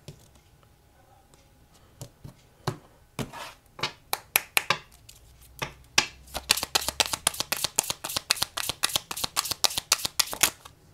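Tarot cards are shuffled close up, with scattered soft flicks at first building into a fast, steady run of crisp card riffles and slaps, quiet room otherwise.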